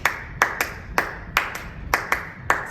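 Hands clap a syncopated Cuban contradanza rhythm cell, crisp close claps in an uneven repeating pattern of about eight strikes, with no voices.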